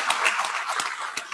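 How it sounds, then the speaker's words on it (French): An audience applauds at a round-table event, a brief burst of scattered hand claps, moderately loud and close. "je voudrais vraiment qu'on l'applaudisse parce que c'est une récompense suprême"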